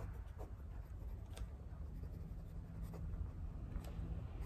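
Steel medium nib of an Esterbrook Camden fountain pen scratching across paper with Atramentis ink, a soft continuous scritch with faint stroke accents, close and quiet, no talking.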